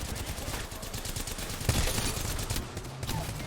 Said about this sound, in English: I blocked 60 damage over 4 shots from the Havoc